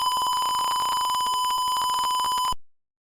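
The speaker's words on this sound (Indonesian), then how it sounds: "LED ini hidup dan juga buzzernya berbunyi" Motion-detector alarm buzzer sounding a continuous loud high-pitched beep for about two and a half seconds, close, alone, then cutting off abruptly to silence.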